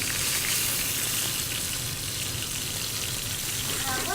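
Seasoned food frying in a pan over medium heat, a dense, steady sizzle close up throughout.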